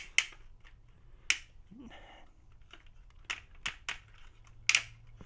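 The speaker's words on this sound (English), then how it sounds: "Heavy ratchets at the hips, in and out, forward, back." Ratcheting plastic hip joints on a Transformers: The Last Knight action figure are worked back and forth, giving a handful of sharp, close clicks spaced irregularly with quiet handling noise between them.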